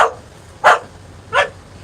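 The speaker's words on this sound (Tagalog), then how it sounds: "tumatahol na naman yung aso ko guys" A dog barks three times, a short bark at the start and two louder, separate barks about half a second apart, fairly close and with no talk over them.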